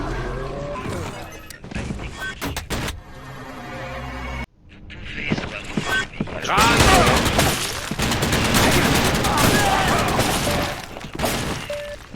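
Shotgun fire in the shooter game TimeShift, heavy blasts breaking into a dense, chaotic stretch of gunfire and crashing debris that runs loud and nearly continuous through the second half.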